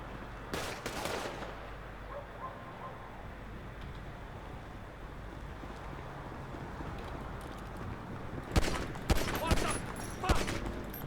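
Gunfire in the video game GTA, a few sharp shots near the start, then a quiet ambient stretch, then a cluster of loud rapid shots near the end, with faint game background throughout.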